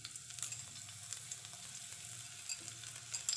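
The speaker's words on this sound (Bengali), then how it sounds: "তো তেলটা গরম হয়ে গেছে আমি পেঁয়াজটা দিয়ে দেবো" Onion goes into hot oil for a dhaba-style palak paneer, producing a faint, steady high sizzle that continues alone throughout.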